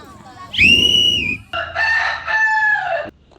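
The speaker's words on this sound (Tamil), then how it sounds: "கொக்கர கோ சேவல் கோவிடுச்சே" A rooster crows twice in quick succession, each a loud, close, drawn-out call, with a low background hum beneath.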